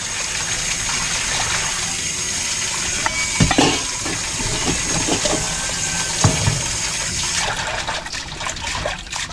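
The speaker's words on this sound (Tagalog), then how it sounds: "Hugasan muna natin." Herbs (pansit-pansitan) are rinsed under running water, a continuous splashing stream broken by louder sloshes and clatters, with the flow growing rougher near the end.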